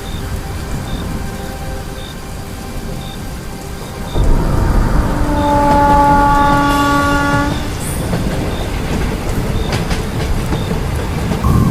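A Bengali local train runs along rails at night in stormy weather. Steady heavy rumble with rain-like hiss, and a loud sustained horn blast in the middle.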